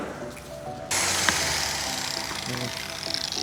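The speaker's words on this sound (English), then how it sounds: "This is a really aggressive sander. So that's a 60 grit." An aggressive 60-grit sander starts up on flood-damaged wood, giving a sudden steady rasping drone close by while a person talks over it.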